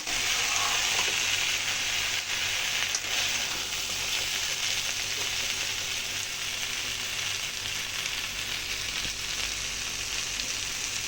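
Slices of bitter gourd and pumpkin fry in a pan with turmeric, black cumin and green chilli, giving a steady, even sizzle and crackle that runs unbroken, with no talking.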